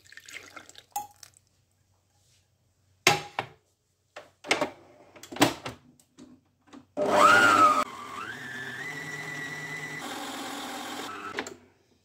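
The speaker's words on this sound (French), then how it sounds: "j'ajoute le beurre fondu et je mets aussitôt à fouetter" Electric stand mixer whisking cake batter with melted butter, after a few clinks and drips it starts with a rising whine, then runs as a steady loud motor hum for several seconds before stopping.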